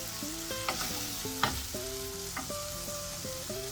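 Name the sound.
stirring tomatoes into frying mutton keema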